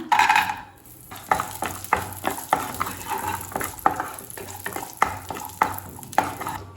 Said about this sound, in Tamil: முந்திரியை நல்லா வறுத்து வச்சுங்க